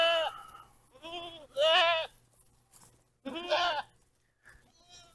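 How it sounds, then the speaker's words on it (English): Goats on a farm bleat loudly close by, giving three drawn-out cries in the first half and another after a short pause, with quieter gaps between. "So let's go check on the goats."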